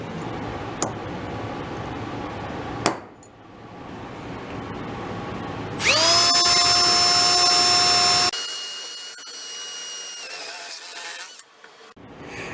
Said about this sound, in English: Let's go drill that out, see what we get.